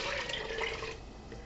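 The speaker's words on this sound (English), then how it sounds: "I'm going to start by adding 8 cups, or about 2 liters of water to this stew" Water pours steadily into a stew pot for about a second, a rushing, splashing stream that then thins to a softer trickle.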